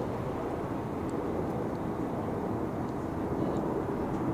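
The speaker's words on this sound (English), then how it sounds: "It's an Airbus A321 American flight 1658. Coming in from the City of Angels." An American Airlines Airbus A321 arriving at Dallas/Fort Worth airport from Los Angeles gives a steady, broad jet roar that holds evenly throughout without clear peaks.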